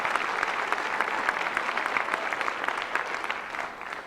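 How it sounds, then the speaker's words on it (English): Part of an audience at a talk claps together when called on. The applause is moderately loud and steady, then thins and fades out near the end. "If you are under 50, clap now, please."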